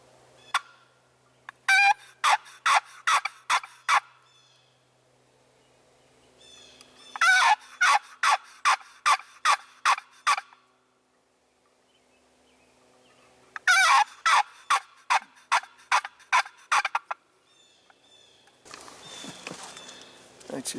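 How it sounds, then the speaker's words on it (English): Wild turkey hen yelps in the spring woods: three separate runs of sharp, rhythmic yelping notes, each run about eight to ten calls long, clear and fairly close with quiet pauses between, then rustling noise at the end. "Now I just heard an aggressive yelp out of a hen in this direction."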